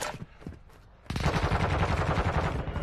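Rapid automatic gunfire in Call of Duty Warzone 2.0 bursts in suddenly after a second of quieter game sounds, then continues as a loud, dense, sustained volley.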